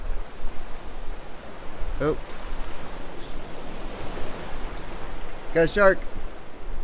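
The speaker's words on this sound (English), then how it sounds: "Wow, the ocean's getting crazy right now." Rough ocean waves in the survival video game Raft roll as a steady broadband wash of surf noise, with brief spoken remarks breaking in near the start and again toward the end.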